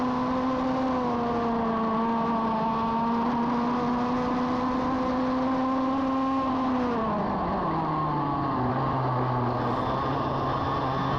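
An onboard racing kart at speed on a track, its engine a continuous high droning whine that holds steady, then drops in pitch as it slows for a corner before rising again, close and alone without talk.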